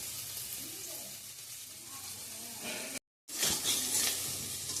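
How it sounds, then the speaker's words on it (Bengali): Potatoes fry in a hot pan with a continuous close sizzle, cut by a sudden brief silence before the crackling returns louder and brighter. "তো এদিকে আলু ভাজা করে নিচ্ছি"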